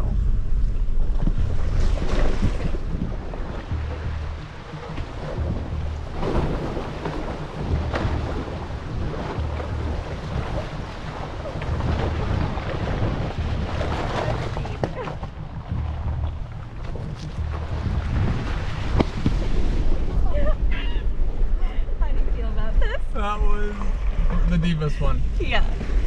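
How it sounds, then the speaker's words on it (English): An off-road vehicle's engine roars and water sloshes and splashes heavily around it through a deep puddle on a trail for a long stretch, with wind rumbling against the microphone and a voice speaking near the end. "We are about to go through a deep"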